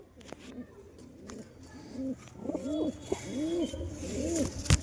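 Pigeons at a loft with breeding pairs and newly hatched chicks coo nearby in a run of soft, rolling low calls that build and overlap toward the end, with faint handling noises around them.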